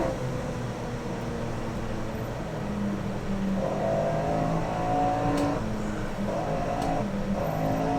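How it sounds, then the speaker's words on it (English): A 1966-era race car at Monza in the racing game Assetto Corsa, its engine droning loudly and continuously, the pitch shifting as it downshifts through the gears, with no speech. "Downshifting now. Momentum. Carrying me down. 3rd gear."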